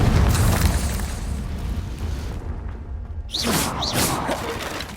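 Confringo blasting spell bursts in the video game Hogwarts Legacy: a loud, rumbling explosive boom fills the opening seconds, followed by fainter whooshing magical bursts near the end, with no speech.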